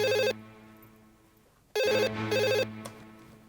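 A telephone rings with two bursts of an electronic warbling tone, a short ring at the start and a longer double ring after a pause, loud and close over a low background hum.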